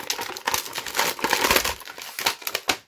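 Crisp plastic crinkling and crackling of toy packaging being opened in a rapid, irregular flurry, close and fairly loud, with a few sharper snaps near the end.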